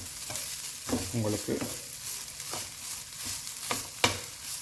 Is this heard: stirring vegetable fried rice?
yes